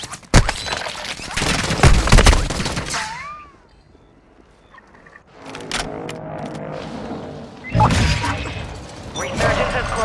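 Call of Duty Warzone gunfire cracks out in loud bursts at the start, then drops to near silence, with more shots and in-game noise returning later. A voice talks over parts of it.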